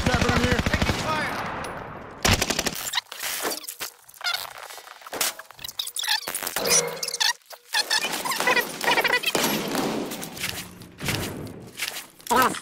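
Call of Duty Warzone gunfire in a trio match, with rapid automatic bursts and scattered shots mixed with footsteps and game effects, fairly loud and under frequent voice chat.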